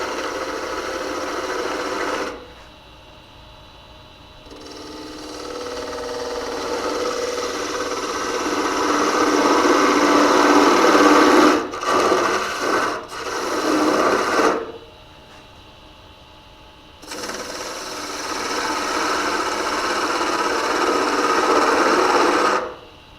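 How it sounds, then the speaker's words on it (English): Power sanding on an ambrosia maple twig vase spinning on a lathe, a steady close whir that runs for a few seconds, cuts out, returns longer with rising intensity, drops again, then resumes. "We'll do a little more sanding"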